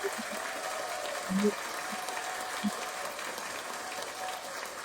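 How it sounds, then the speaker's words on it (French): A church congregation applauds continuously in a dense, fairly distant wash of clapping, with a few faint voices briefly rising above it. "Applaudis, applaudis, applaudis."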